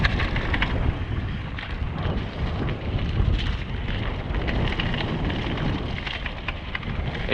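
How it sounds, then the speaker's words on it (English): Steady rain falls outdoors on a hillside trail. It makes a soft, continuous patter and hiss with no clear breaks, and no one speaks. "It's starting to rain, I think."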